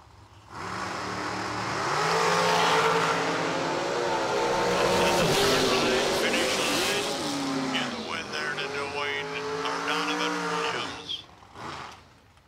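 Bracket drag racing cars launch and roar down the strip, engines loud and sustained for about ten seconds before fading; a track announcer's voice and crowd noise mix in underneath.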